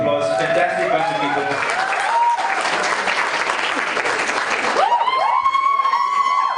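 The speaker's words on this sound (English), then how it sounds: "Can you please give them a round of applause?" Wedding audience applauding in a hotel setting, dense steady clapping that fills the room for several seconds, with voices and tonal sounds rising around it before and after.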